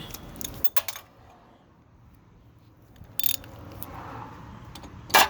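A ratchet tightens the rear BC Racing coilover bolts on a 1994 Mazda RX-7 FD3S, giving short bursts of quick metallic clicking at the start, in the middle and at the end, separated by near silence.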